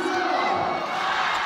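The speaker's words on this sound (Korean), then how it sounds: "홈팬들, 원정팬들의 함성으로 결과를 네. 알 수 있습니다." Home and away fans roar together in a volleyball arena, a dense, loud, sustained crowd cheer with shouting voices blending into one continuous wall of sound.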